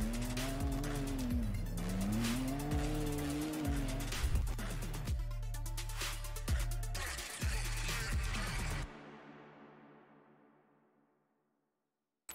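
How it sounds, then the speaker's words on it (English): Drift car tires squealing hard during a Formula DRIFT pro competition in Atlanta, a loud continuous screech over roaring, revving engines for most of the clip before cutting off and fading away. "tires just rip."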